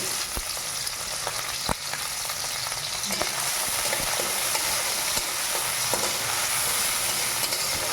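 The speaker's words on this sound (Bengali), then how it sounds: "এরকম রসুন কুচি দিয়ে দিচ্ছি" Chopped onion and garlic frying in a pan, giving a constant dense sizzle and crackle with occasional clicks of the stirring utensil, close and loud throughout.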